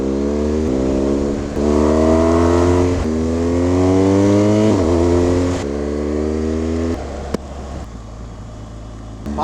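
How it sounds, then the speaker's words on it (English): Motorcycle exhausts roaring loudly from bikes riding close behind on a long-distance road ride, engines rising and falling through gear changes with a steady low rumble and wind rush. "it's all I can hear are your exhausts"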